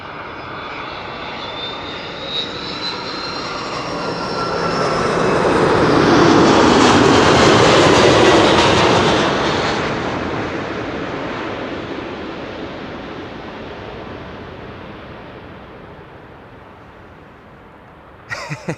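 A Turkish Airlines jet on landing approach at Schiphol, in from Istanbul: a loud broad engine roar builds, peaks overhead around the middle and slowly fades away, alone without voices.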